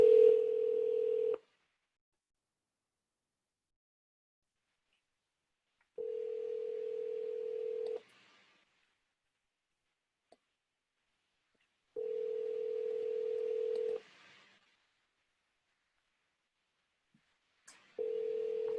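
Steady telephone dial tone plays in four separate bursts of roughly one and a half to two seconds each, divided by long silent gaps, while a call list is being dialed.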